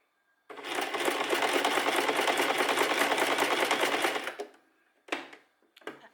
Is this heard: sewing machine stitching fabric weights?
yes